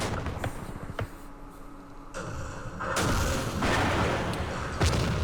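Mortar barrage in the Campaign Series Middle East wargame: several sharp thumps and booms land across a rumbling battlefield, growing louder and denser in the second half, with no talking.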